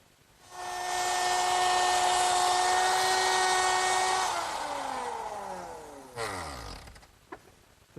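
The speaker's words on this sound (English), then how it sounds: "The slots are cut in the rails using a 1/4 inch slot cutting bit" A router with a 1/4 inch slot cutting bit spins up to a high, steady whine and cuts slots in wooden table rails, then winds down with a falling pitch into silence and a few small knocks.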